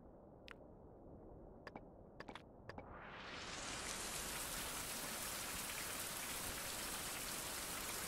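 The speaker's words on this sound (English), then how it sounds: "that makes the rain very loud" Rain in the Caribbean island survival game Survival: Fountain of Youth, a few faint drips and taps giving way to a steady, loud hiss of heavy rainfall that fills the rest of the clip without a break.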